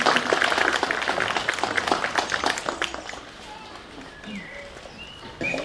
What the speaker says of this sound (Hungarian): És egy nagy tapsot Ilonkának külön.